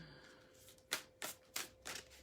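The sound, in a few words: shuffling tarot cards during a card reading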